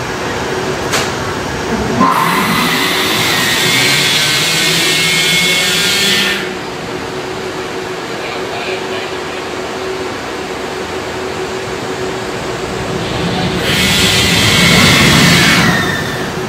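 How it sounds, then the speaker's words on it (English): A train's linear induction motors give off a steady, loud, high drive whine and squeal that rises in two strong surges over continuous rumbling rail noise. "You can hear both at the same time, both the, the squeal of the induction motors on the other side and what the drive's doing on that side."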